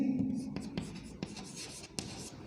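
Chalk on a classroom blackboard makes a few sharp taps and short scratchy strokes, fairly quiet, with a faint voice in the background.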